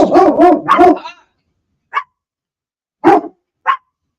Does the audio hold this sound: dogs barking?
yes